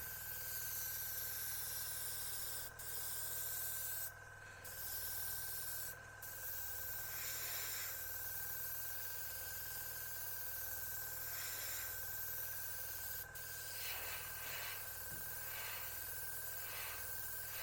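Airbrush hissing steadily as it sprays paint onto a Revell 1/32 He111 model in freehand splinter camo, a constant close airy whoosh with a steady hum underneath and a few short pulses.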